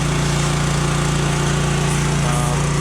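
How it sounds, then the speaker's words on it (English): An angle grinder works a steel radiator support edge flat on a 1970 AAR Cuda, producing a steady, loud, close whine and buzz that runs unbroken throughout. "Gotta grind this down some more."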